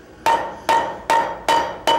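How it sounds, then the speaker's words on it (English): Farrier's rounding hammer striking hot metal worked over an anvil horn at a blacksmithing conference, five sharp, ringing blows at an even rhythm, close and loud, with no talk. "He works them over the horn with a farrier's rounding hammer."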